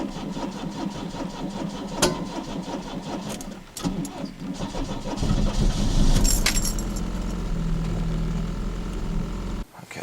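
A 1994 Pontiac Sunbird LE started on a cold morning after sitting all night: keys jangle, the starter cranks, and the engine catches and settles into a steady close idle.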